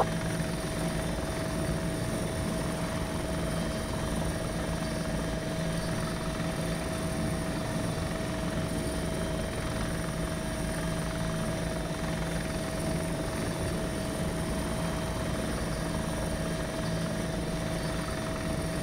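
Helicopter flying overhead during an airsoft game at Tushino, a steady droning rotor and engine hum at moderate distance, constant for the whole stretch with no speech.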